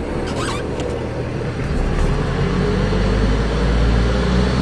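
A diesel caravan drives along with a loud, steady engine drone and road rumble that holds unbroken throughout. No distinct gear change stands out, and no one speaks.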